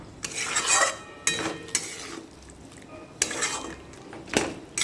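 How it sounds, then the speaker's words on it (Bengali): A utensil stirs yogurt into mushroom masala in a pan, making a few separate bursts of scraping and clinking against the metal, spaced about a second apart, with no talk. "খুব সুন্দর ভালো করে মিশিয়ে দিলাম টক দইটা"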